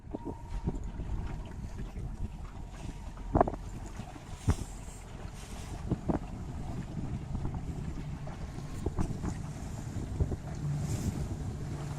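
Wind blowing across open water during a youth sailboat racing team trial, a steady low rumble with gusty microphone buffeting and faint water noise, with a few soft knocks and no voices.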